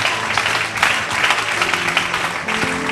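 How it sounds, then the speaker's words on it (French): An audience at a testimony gathering after a prayer breaks into dense, steady clapping that holds at an even, fairly loud level throughout. "Acclame bien, acclame bien."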